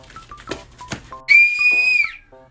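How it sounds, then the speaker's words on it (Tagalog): A toy whistle is blown at a children's playtime, giving one long, loud, steady shrill tone after a few shorter chirpy notes and squeaks. "Kanina ka pa nagpipito, ako naman."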